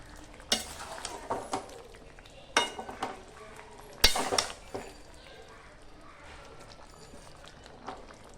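A spoon stirs shukto in a pan after ghee is added, with repeated scrapes and clinks over a soft sizzle, some loud knocks against the pan, and faint talk in the background.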